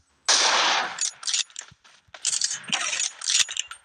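Rapid gunfire from a video game, loud sharp bursts of shots in uneven clusters with short gaps, alone without talk.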